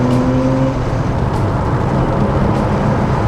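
Porsche 964 Turbo accelerating hard on boost, a loud, steady engine roar held close throughout with a rising drone and no talk over it.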